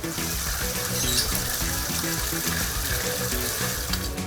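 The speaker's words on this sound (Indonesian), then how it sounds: "kemudian cuci pada air mengalir" Tap water runs steadily as catfish are washed and scrubbed under it, a continuous close splashing hiss over a steady musical backing.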